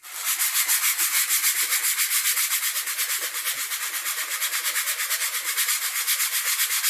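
Hand sanding of a wood surface, the abrasive rubbing in a quick, even back-and-forth rhythm of about two strokes per second, close and steady throughout with no talking.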